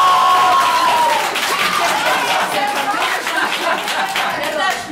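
Audience at an improv theatre show applauding and cheering, a dense wash of clapping with whoops and crowd noise, loud and sustained throughout before easing slightly at the end.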